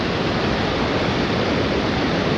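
A rushing river on a mountain trek in Georgia, a dense, steady roar of water filling the sound without a break.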